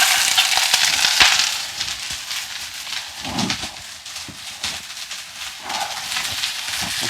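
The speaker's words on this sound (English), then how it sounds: "There's that sizzle." Celery and carrots sizzle loudly in a hot wok while being stir-fried for moo goo gai pan, a steady crackling fry with scraping stirs throughout, no talking.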